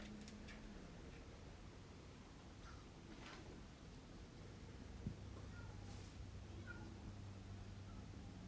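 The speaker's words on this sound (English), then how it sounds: "Can you guys hear my cat crying?" A cat meows faintly a few times in the background of a very quiet room.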